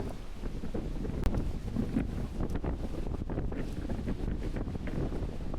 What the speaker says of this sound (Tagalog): tingnan nyo kung gaano kalakas yung hangin.